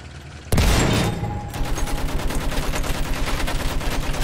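Heavy gunfire in the video game Battlefield 1: a loud blast opens, then rapid rhythmic automatic fire rattles on steadily, with more shots layered in the background of the battle.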